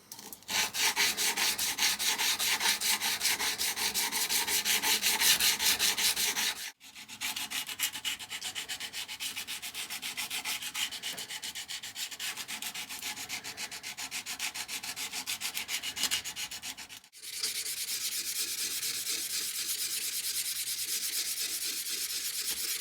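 A knife handle for a kwaiken is hand sanded with 220 to 600 grit paper. Steady, close rasping strokes run in three long stretches, each separated by a brief pause.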